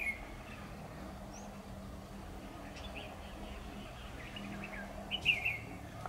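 A red-whiskered bulbul at a trap sings faint, scattered chirps over a steady outdoor hiss, with a brighter burst of notes near the end.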